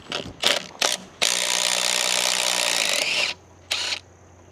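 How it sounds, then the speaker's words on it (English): Tool bursts work a cross bolt out of a cylinder on a JCB 1400 backhoe: three short ratcheting rasps, then a sustained two-second whirring run, and a final short burst, all up close. "Hopefully that cross bolt will come out of there."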